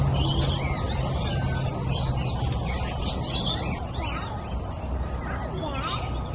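Birds at a zoo chirp and call in scattered bursts amid a busy, noisy ambience, with people talking nearby at the same time.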